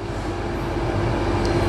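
A slow Slovak passenger train running between Malacky and Bratislava-Lamač, a steady low rumble with a sustained hum of wheels on rail, continuous and fairly close throughout.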